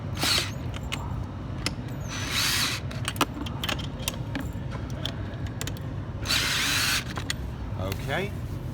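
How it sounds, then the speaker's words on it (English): Power tools run in short bursts during a Raptor/Falcon assembly, whirring spurts broken by clicks and clanks of parts, with quiet gaps between them. "I'm using power tools just to save myself some time."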